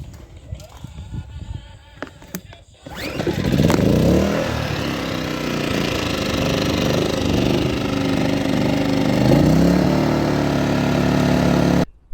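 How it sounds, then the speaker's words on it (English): An emergency backup generator in an ambulance conversion rattles at first, then fires up after a pull start and settles into a loud, steady running drone close by. "I plugged it in, pulled it a few times, fired right up."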